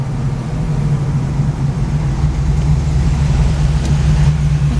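A 1970 Dodge Challenger with a 440 cubic inch V8 idles steadily up close, a deep, constant low rumble with no change in pace and no voices over it.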